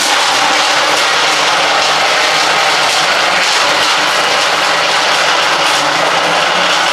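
Blender whirring on its first speed setting while mixing a gingerbread coffee frappe with ice, a loud, steady, broadband roar and grind that continues without pause, close up and without talking.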